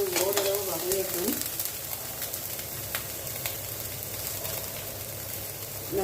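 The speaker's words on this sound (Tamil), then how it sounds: "வெங்காயம், பச்சை மிளகாய், கடுகு, கருவேப்பிலை சேர்த்துக்கேன். வெங்காயம் ஓரளவு வதங்கிக்கும்." Onion, green chilli, mustard seeds and curry leaves sauté in hot oil, giving a steady close sizzle with faint stirring scrapes throughout and a brief low hum early on.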